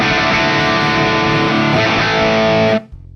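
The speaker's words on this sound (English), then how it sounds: "Turning the dial to the right, we subtly boost the low, mid, and low end frequencies, increasing the deeper bass tones." A Marshall guitar amp with its resonance dial turned up sounds a loud, thick distorted chord that sustains for almost three seconds before being cut off sharply, leaving faint hum.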